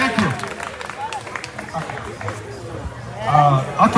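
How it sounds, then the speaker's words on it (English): An audience at a live community event applauds, a steady wash of clapping mixed with crowd chatter and voices, swelling louder toward the end. "A round of applause again."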